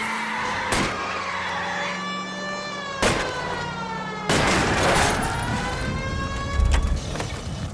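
Gunshots crack out at a fleeing car's tires during a chase in L.A. Noire, a few sharp separate bangs over engine and siren drone with tire noise, fairly loud and close.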